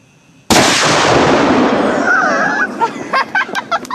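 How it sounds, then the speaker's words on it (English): A rifle fires a single heavy blast into a blanket, shredding it. The loud, sudden boom rolls into a long rumbling decay, followed by a few short knocks and bursts of talk. "The blast ripped that blanket to shreds."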